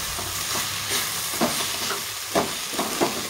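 Oats frying with vegetables in a pan as they are stirred, a steady soft sizzle with scraping strokes of a spoon recurring every second or so, close up, no talking.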